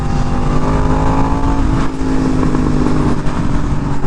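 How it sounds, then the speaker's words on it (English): A Yamaha R1M motorcycle fitted with an aftermarket exhaust revs hard in third gear, a loud, close, continuous engine roar that climbs and holds through the whole stretch with no talk over it. "we're gonna give her the last few revs with this exhaust"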